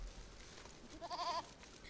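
Goat bleating in Age of Empires 2 Definitive Edition, one short wavering bleat, moderately clear over a quiet game hum, with no voices.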